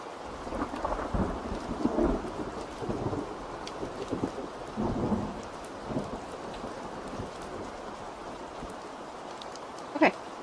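A rain and thunder sound effect plays steady rainfall hissing on surfaces while low thunder rumbles and swells under it. A sharp crack comes near the end, and no one speaks.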